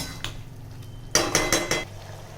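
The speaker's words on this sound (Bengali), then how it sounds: "এরপর চিকেনটা এর সাথে মিশিয়ে দেব। ভালো করে নেড়ে" A utensil stirs chicken with cumin powder and spices in a cooking pan, giving a few sharp metallic clanks and scrapes in quick succession near the middle, with quieter kitchen rustle around them.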